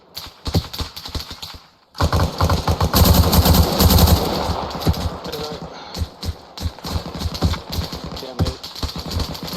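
Sustained automatic gunfire in the ARMA Reforger military game, with a brief pause and then dense rapid bursts, loud and close, trailing into scattered shots.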